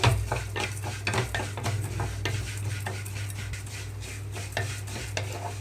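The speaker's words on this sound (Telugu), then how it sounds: "ఇందులోకి సేమియా వేసి వేయించుకుంటున్నాను సేమియా కూడా కొంచెం కలర్ మారే వరకు వేయించుకోవాలి" Vermicelli fries in ghee in a pan, a spoon stirring and scraping it in busy repeated strokes over a soft sizzle and a low steady hum, close and continuous with no voices.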